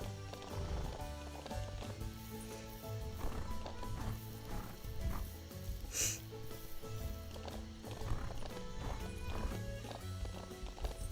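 Horse hooves clip-clop at a steady trot over layered game music in the video game Ranch of Rivershine, with a brief snort midway.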